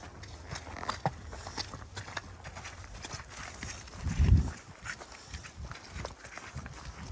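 Soft, uneven hoof clops of a Percheron horse walking on the ground, faint against steady outdoor background noise, with one louder thud midway.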